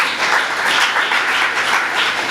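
A church congregation claps in a steady, dense burst of applause that fills the whole short moment, with no one speaking.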